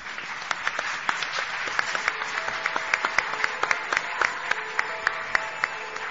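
Steady applause from an audience honouring a mayor, a dense wash of many hands clapping continuously with sharper individual claps standing out, moderately loud throughout.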